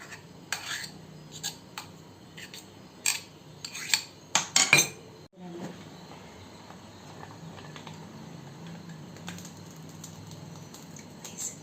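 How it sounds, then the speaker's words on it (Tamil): Beetroot idiyappam dough being pressed through an idiyappam press. Scattered metallic clicks and clinks cluster into a quick burst near the middle, followed by a quieter stretch of faint rustling and occasional taps. "இப்போ இதை இடியாப்பச்சில் போட்டு நம்ம இடியாப்பத்தை புழிஞ்சு எடுத்துடலாங்க"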